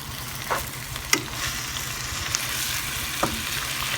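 Lao rice noodles being stir-fried in a pan, a steady sizzle with a few sharp scrapes of a utensil against the pan spaced through it, close and alone with no voices.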